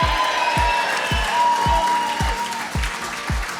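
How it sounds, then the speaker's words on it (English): Crowd at a rugby club applauding and cheering, a steady wash of clapping with rhythmic heavy thumps underneath, sustained at a fairly loud level throughout. "we'll give a cheer to the Bannockburn boys as well."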